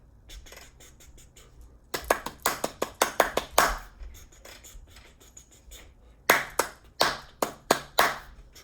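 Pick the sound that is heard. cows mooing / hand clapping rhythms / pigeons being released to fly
hand clapping rhythms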